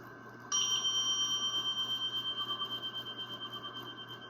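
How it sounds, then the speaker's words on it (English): A meditation bell is struck once and rings out with a clear, sustained tone that slowly fades and pulses, heard alone in a quiet room before a chant. "I'll do the bell and you do the chant"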